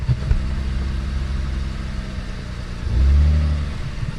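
A Mitsubishi Eclipse engine runs just after a transmission replacement, a steady close rumble inside the car that swells briefly as it revs to pull away.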